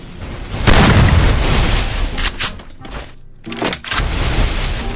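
Loud, dense booming grenade explosions in a multiplayer shooter game, with overlapping blasts and crackling bursts filling the whole stretch, briefly dropping out once before resuming.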